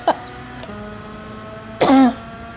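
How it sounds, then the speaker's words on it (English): A man coughs during a racing-game livestream, two rough bursts: a short one at the very start and a stronger, harsher cough near the two-second mark, heard close over a low steady background hum. "flipping got a nasty cough"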